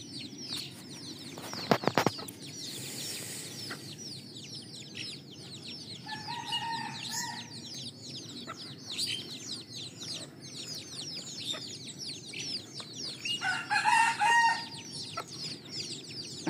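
Hens and chicks cluck continuously at a farm while a rooster crows twice, the calls fairly close and layered over a busy background of chirping.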